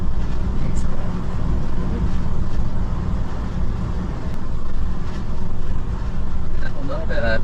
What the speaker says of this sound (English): And a little bit of tire vibration there.